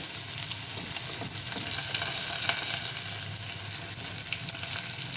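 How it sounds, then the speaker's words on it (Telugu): Onion pieces fry in a pan for sago upma, making a loud, constant, close sizzle with a faint stirring texture and no talk. "ఉల్లిపాయ ముక్కలు వేస్తున్నాను"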